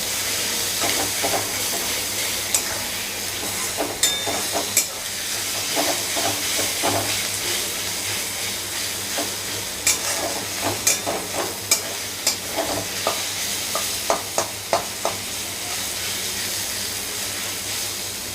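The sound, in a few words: ginger, garlic and green chili paste frying in a pan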